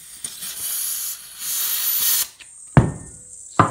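Green gas hisses in steady bursts from a leaking King Arms Python airsoft revolver, close and clear, followed by two sharp, louder pops near the end.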